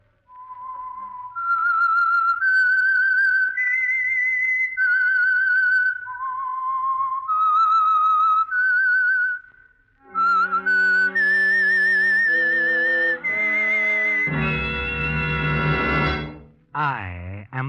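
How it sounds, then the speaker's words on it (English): A lone whistler plays the eerie theme of the radio mystery show The Whistler, a slow melodic line of clear, sustained notes with vibrato, close and loud, followed by a fuller orchestral sting and a brief closing flourish. "That whistle is your signal for the Signal Oil Program"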